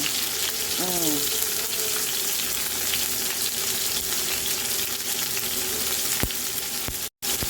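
Chopped tomato and garlic sauté in a hot pan with a loud, steady close-up sizzle and crackle that continues unbroken, with brief faint tonal sounds near the start.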